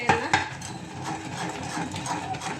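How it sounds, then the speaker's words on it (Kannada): Ragi mudde is stirred in a hot pot on a large stove, with scraping and knocking of a utensil against the metal, two sharper knocks at the start and then steady close stirring without speech. "ಬನ್ನಿ ಈಗ ತಿರುಗ್ಸೋಣ."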